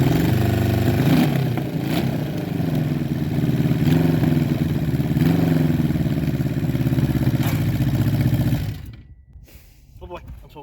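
A 1980 Suzuki GS1100E chopper motorcycle runs with a loud, close engine rumble that rises and falls with revving for about eight seconds, then cuts off abruptly, leaving faint handling noise.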